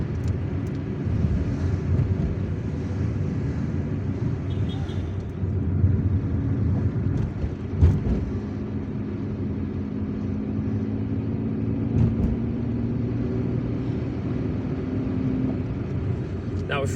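A car drives through the city streets near the Central Post Office, its steady low engine and road rumble filling the cabin, with a brief thump partway through and a person talking over the drive.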